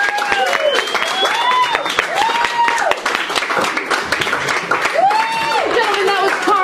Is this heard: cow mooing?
no